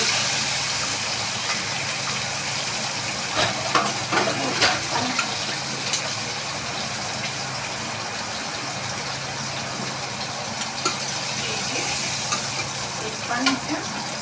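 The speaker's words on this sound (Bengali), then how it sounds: "এখন পেঁয়াজের মাছ একসাথে ভাজছি" Fish and onions fry together in a pan with a steady close sizzle, with occasional stirring scrapes and small bursts of spatter throughout.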